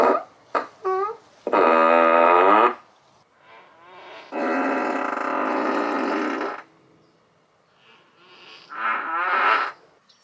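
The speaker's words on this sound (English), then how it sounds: "Emissions testing, you can also fart." A car's exterior speaker plays a novelty fart sound effect: several short sputtering blasts followed by longer drawn-out raspy bursts, loud and close with brief gaps of quiet between them.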